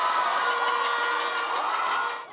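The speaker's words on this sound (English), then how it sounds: "Members of the Filipino community from all over Taiwan have filled the venue to cheer for their favorites" A crowd of Filipino community members at a packed venue in Taiwan cheers for contestants, a steady wash of shouts and whoops held for a couple of seconds before tapering off.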